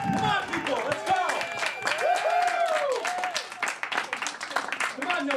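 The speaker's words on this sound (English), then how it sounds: "Let's get a quick round of applause for lesbians." A live studio audience at a student talk show's Pride segment claps in a brisk, dense patter, with whoops and cheering voices ringing out over the applause.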